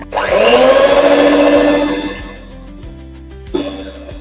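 An electric mixer beats cupcake batter of sugar and oil with a loud, whining motor hum that lasts about two seconds and then winds down. A brief rattling restart follows near the end.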